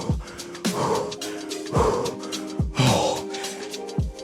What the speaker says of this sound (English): You can hear how heavily I'm breathing.